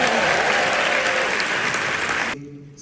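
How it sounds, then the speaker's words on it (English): Loud audience applause and cheering at a Miami film festival event for the series Grownish, a dense wash of clapping that cuts off abruptly near the end, leaving a quiet room. "Clap it up for Grownish."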